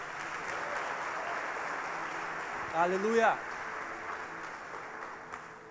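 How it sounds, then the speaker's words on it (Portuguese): Church congregation clapping during a worship service, a soft, steady patter of hands throughout, with a voice briefly calling out over it near the middle. "Aplauda e glorifica o nome do Senhor Jesus"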